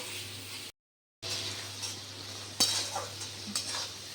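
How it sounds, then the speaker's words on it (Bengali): Sliced onions sizzle and fry in a pan, a steady close hiss broken by a short silent gap, with a few scraping stirs of a utensil against the pan. "পেঁয়াজগুলোকে ভালো করে ভেজে নেব, লাল লাল করে ভেজে নেব।"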